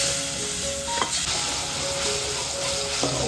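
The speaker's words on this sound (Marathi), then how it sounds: "तर मसाला ना बॉईल झालाय" Turmeric and chilli masala bubbling in a pan with a little water before marinated prawns go in, a continuous close sizzle and simmer under faint kitchen tones, without voices.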